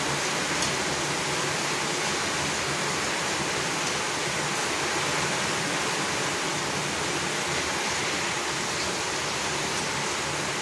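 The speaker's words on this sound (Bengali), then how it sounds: "এইভাবে নেড়ে চেড়ে লাল লাল করে ভেজে নিচ্ছি" Banana fritters (kolar bora) deep-frying in oil over medium heat, a steady, dense hiss and crackle that runs unbroken and fairly loud throughout, with no voices.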